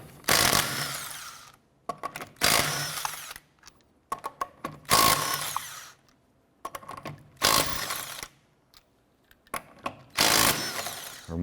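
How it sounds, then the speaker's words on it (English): A 19mm socket on a power tool spins car wheel lug nuts off a 2006-2013 Chevy Impala in five loud, close bursts of whirring and rattling, each lasting about a second, separated by short silences. "let's go ahead and remove our lug nuts"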